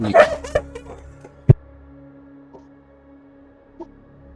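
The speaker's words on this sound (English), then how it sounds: "Yeah, it was the dog." A dog barks a few times up close at the start, then single faint yips and knocks follow sparsely over a quiet hum.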